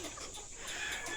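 Chickens clucking faintly in the background, a few soft calls over a quiet outdoor scene with no talking.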